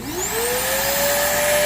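A vintage Fantom vacuum cleaner starts up, its motor whine rising quickly in pitch and then holding a steady, loud drone.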